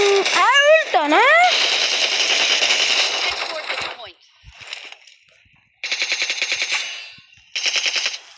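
Rapid automatic gunfire from the video game PUBG comes in loud, dense bursts with pauses between them, and a short stretch of quieter game sounds falls in the middle.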